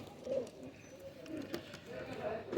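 A pair of Ali wali cross-breed pigeons cooing nearby, soft repeated throaty coos in short phrases, with someone talking over them.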